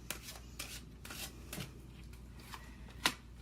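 Tarot cards are shuffled in quick soft riffles and slides, a series of papery swishes ending in a sharper tap, close and quiet.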